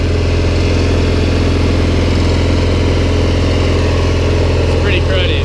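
A Cub Cadet 1811 lawn tractor engine idles steadily with a rhythmic, throbbing putter, close and loud throughout, without any revving.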